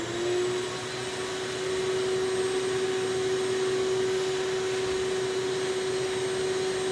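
A vacuum table pulls air through an MDF spoilboard, making a steady, loud, droning suction whine with a constant tone that holds throughout and no talk over it.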